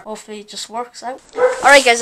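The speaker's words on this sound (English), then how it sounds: "sorry if you hear a dog barking" Someone talks close up as a dog barks and yips nearby, the barking growing louder toward the end.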